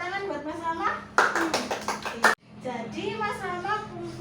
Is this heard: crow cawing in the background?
no